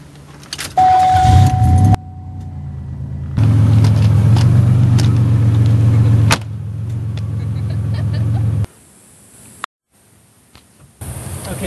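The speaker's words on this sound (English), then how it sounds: "Hold on, I'm gonna stop my car." A car engine rumbles steadily from inside the cabin, then shuts off as the car is stopped. Keys jangle and a few clicks follow in near-quiet.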